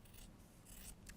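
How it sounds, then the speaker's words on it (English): Clover Bordeaux scissors cut through bulky quilted fabric for a quilt-as-you-go baby bib, giving a soft, close, faint snip and rasp of blades through thick layers. "I'm using these Bordeaux scissors"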